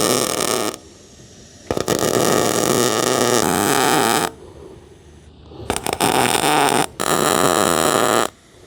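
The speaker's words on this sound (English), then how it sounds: "I'll weld this in place, and I'll cut that piece off once we've welded it." An arc welder sizzles loudly while tacking a steel frame piece in place for a tiny home build, crackling in several long bursts separated by brief quiet gaps.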